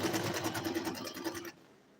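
A sewing machine stitches a green ball gown in a fast, steady rhythmic whirr of needle strokes for about a second and a half, then stops abruptly, leaving a faint quiet tail.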